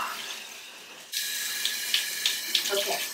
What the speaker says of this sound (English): Now we're going to turn the water off.